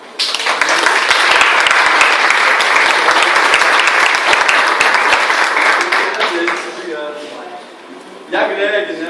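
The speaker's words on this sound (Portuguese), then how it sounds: "Palmas." A lecture audience applauds loudly and steadily for several seconds, a dense wash of clapping that fades as a voice begins speaking near the end.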